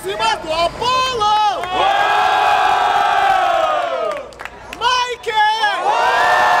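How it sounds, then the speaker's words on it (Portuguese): A large crowd at a freestyle rap battle semifinal in Barueri, Brazil, cheers and shouts loudly, with whoops and sustained roaring that swells, dips briefly, then rises again with excited voices. "Barulho para as rimas do Apolo!"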